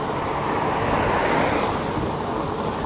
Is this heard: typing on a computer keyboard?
no